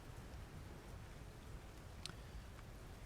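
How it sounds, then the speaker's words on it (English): Rain pattering steadily on a wooden dock, a soft continuous hiss of drops with a few brief louder ticks, faint and even throughout with no voices. "You hear the pitter-patter of the rain landing on the wood all around you."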